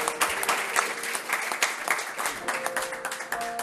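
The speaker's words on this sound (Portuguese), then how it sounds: "Você pode aplaudir a Jesus pela sua vida?" A church congregation at a conference applauds, brisk clapping from many hands, fairly near and even, with a faint sustained musical tone entering toward the end.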